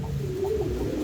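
A steady, low coo from a fancy pigeon, held continuously for about a second at close range over a soft background hum.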